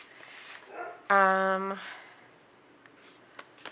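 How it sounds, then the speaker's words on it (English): Dogs give a short, loud bark or yelp of about half a second, following quieter indoor noise and a voice, then fade back to soft room sounds with small clicks. "Now, of course, the dogs are working. There's just always got to be noise."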